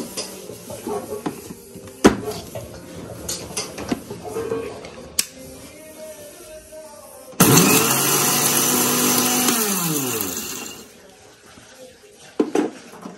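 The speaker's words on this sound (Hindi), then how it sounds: "तो बस अभी इन मसालों को पीसते हैं।" Pickle spices for a carrot, radish and chilli pickle are coarsely ground in a mixer grinder: a loud motor roar of about three seconds that winds down, with clattering handling sounds before and after.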